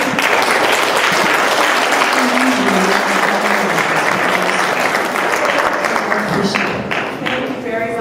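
Audience applause after a speech, a dense, steady wash of many hands clapping at full loudness throughout, with voices audible underneath and the clapping thinning slightly near the end.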